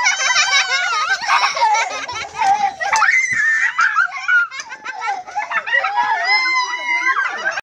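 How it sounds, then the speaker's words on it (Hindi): Children shouting, squealing and laughing as they play outdoors in a hillside village in Uttarakhand, a steady stream of high excited voices from nearby that fills the whole span. "ये देखो गाइस बच्चे कैसे शोर मचा रहे हैं।"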